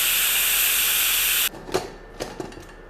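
Steam hisses loudly and steadily from a pressure cooker of mutton harees being opened after its whistles, then cuts off abruptly, followed by a few soft metallic clinks and knocks of the lid.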